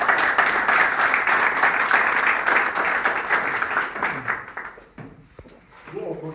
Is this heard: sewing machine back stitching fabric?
no